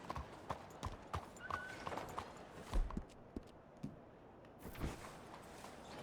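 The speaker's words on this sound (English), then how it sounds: "Meu cavalo tá aqui. Meu puro sangue árabe." An Arabian thoroughbred horse in Red Dead Redemption 2 clops along at a walk with irregular, fairly close hoof strikes and a brief whinny, set against quiet ambience.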